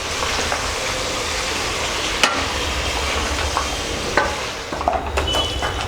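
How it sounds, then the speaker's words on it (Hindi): Chicken with chili powder stirred in a hot pan over high flame for a village-style dry chicken, a steady close sizzle with scraping stirs and a few sharp utensil clinks. "तो चलिए सारे चीज़ों को अच्छे से मिक्स कर लेते हैं।"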